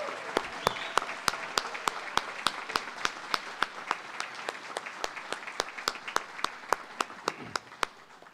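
An audience applauds graduating students at a university honors college graduation celebration, a sustained wash of clapping punctuated by sharp, regular nearby claps standing out above the crowd.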